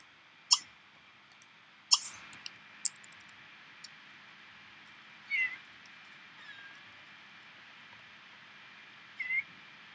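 A cat in The Sims 3 video game meows a few times, short high calls spread apart, with sharp clicks and taps near the start over a quiet background hum.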